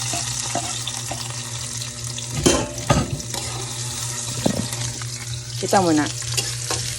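Oil sizzles and crackles steadily in a cooking pan, with a few sharp clinks and knocks of utensils on top and a short spoken phrase.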